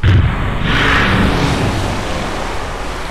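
A rocket splashes down into water in Kerbal Space Program. A loud, close burst of roaring noise hits at once, then settles into a sustained rushing wash that slowly fades.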